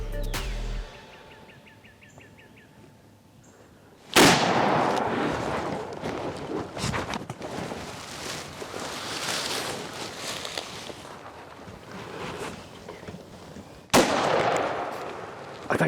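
A loud close shotgun blast during a spring turkey hunt in the woods, followed by long rolling echo and rustling, with a second sharp crack near the end.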